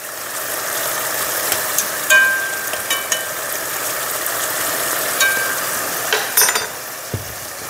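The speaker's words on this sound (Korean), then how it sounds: "그리고 이제 올려고당을 넣고 은근히 좀 끓일게요." Burdock root simmering gently in soy sauce and syrup in a pan: a continuous soft bubbling hiss with faint high squeaks and a few small clicks, and one low knock near the end.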